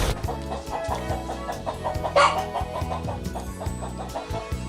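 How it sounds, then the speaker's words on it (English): A chicken walking around clucks repeatedly in short, rhythmic bursts, close and fairly loud, with one sharper squawk partway through. "there's a chicken walking around"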